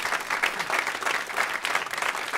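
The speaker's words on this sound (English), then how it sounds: "So a brief round of applause for some artistic leadership." An audience claps steadily after a genre-bending world-premiere music performance, producing dense, continuous applause that stays fairly even throughout.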